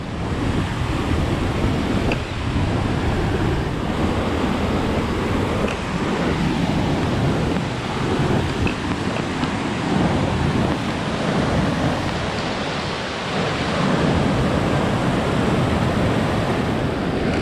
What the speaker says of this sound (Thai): แต่น้ำเชี่ยวมากเลยครับ